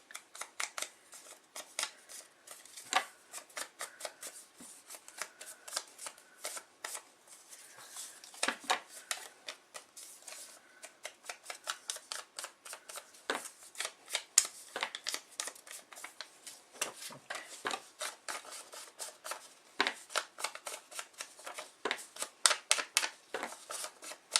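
Paper for a vintage journal is scrunched and ripped close by in quiet surroundings, giving irregular bursts of crisp crackles and short tearing rasps spread across about twenty-four seconds with pauses between them.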